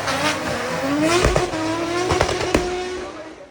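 Drift cars at a mountain hill-climb drift event roar past with strained engines, rising revs and tire squeal, the loud close pass repeating as the cars sweep by continuously without a break.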